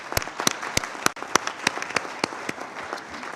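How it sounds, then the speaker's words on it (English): Audience applause at a human trafficking awareness event hosted by the Sovereign Order of Malta, with sharp, scattered individual claps over a steady crowd wash, moderately close and continuous throughout. "Let's give them a round of applause if we could."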